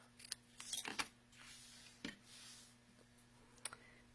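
Scissors snip through a piece of gold shimmer ribbon in a quiet room, a few short, crisp clicks and cuts scattered across a few seconds, close and fairly soft.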